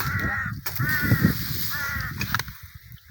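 An agitated crow caws loudly and close by, giving a few harsh calls in quick succession, then briefer squawks and a drop to quiet near the end.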